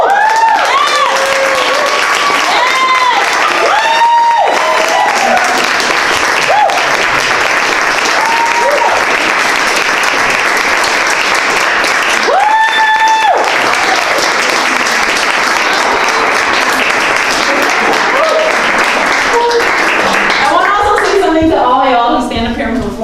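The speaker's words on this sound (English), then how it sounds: "Stand up here and stand up straight and take that applause" An audience applauds at an arts event honoring women artists, sustained loud clapping with scattered whoops and cheers, and a few voices calling out over the crowd.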